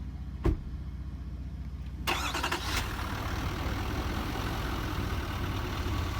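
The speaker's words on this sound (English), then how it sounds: "There's the sound at idle." A 6.6L V8 Duramax L5P diesel engine cranks, catches and settles into a steady idle, heard from outside the truck. A click is followed by the start-up surge and then an even, continuous rumble.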